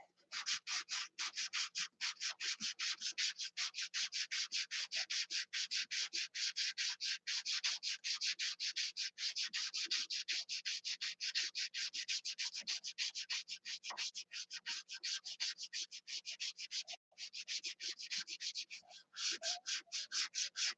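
Rapid back-and-forth scratching of hand sanding, a steady rasping stroke rhythm that continues almost without a break, close and fairly quiet.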